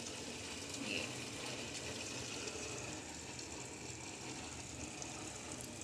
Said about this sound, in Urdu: مشین پانی لینا شروع ہو گئی ہے.